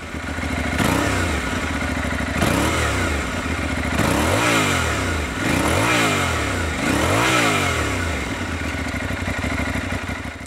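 Aprilia Tuareg 660 mid-size adventure motorcycle with a 659 cc parallel-twin engine, revved repeatedly in rising and falling throttle blips over a steady loud idle, close by with no talking.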